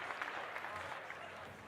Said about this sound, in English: So let's clap up Urban X